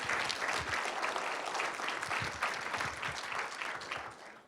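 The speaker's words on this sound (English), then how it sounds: "everybody should give Marcus a round of applause" An audience at an alumni keynote presentation claps for about four seconds in dense, even applause that fades away at the end.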